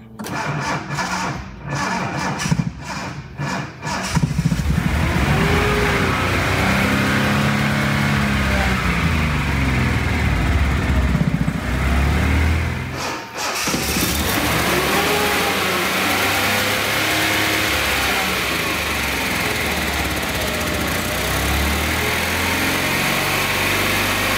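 A 1976 Datsun 280Z engine cranks with a few clicks, catches, and runs loudly, its revs rising and falling through repeated swells, close by and continuous with no talking.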